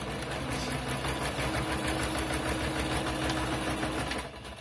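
A sewing machine stitches a Christmas junk journal page in a steady, fast mechanical whir with a rapid chattering stitch rhythm, loud and continuous until it slows at the very end.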